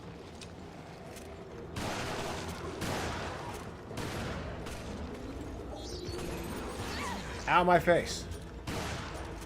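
Gunfire in a video game, a busy run of shots and impacts with a louder burst near the end, mixed with game effects and a player talking over it.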